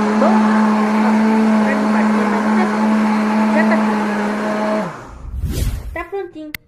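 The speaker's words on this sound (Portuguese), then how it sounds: "Vou colocar aqui no meu liquidificador. Vou bater" A blender mixing strawberry gelatin mousse whines loud and steady for about five seconds, then winds down and stops, followed by brief talk.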